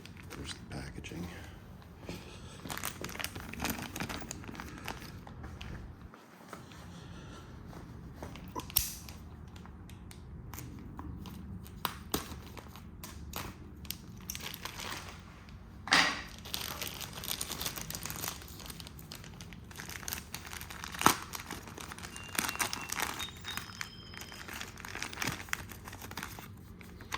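Plastic packaging of a Takegawa center rack for a Honda Super Cub crinkles and crackles as it is handled up close, with irregular rustles, creaks and small taps continuing throughout, while a voice talks intermittently.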